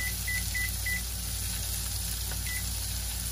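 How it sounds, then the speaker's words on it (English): A kitchen oven timer gives a short run of four quick, evenly spaced electronic beeps, then one more after a pause, heard over a steady low background hum. "let's set my timer"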